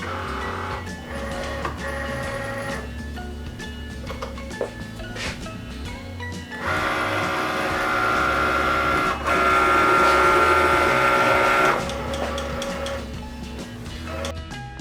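A Cricut cutting machine cuts vinyl with a steady mechanical whir and hum, the carriage motor rising louder in the middle passages and easing back between moves, close by with no one talking.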